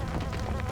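A mosquito nest buzzing in a hallway in the video game Kameo: Elements of Power, a steady close insect drone that holds for under a second.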